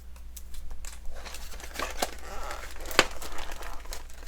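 Tape and cardboard on a Lego box get torn open, with rough crinkling and ripping in short bursts and a sharp snap partway through, close and fairly loud.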